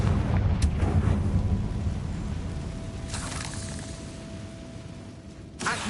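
Confringo blasting spell in the video game Hogwarts Legacy, a loud rumbling explosion that booms at the start and slowly decays, with a further burst near the end.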